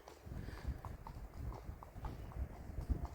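Horse hooves clip-clop in a steady rhythm on a chilly outdoor morning, fairly close, with a faint background hum and no talking over them.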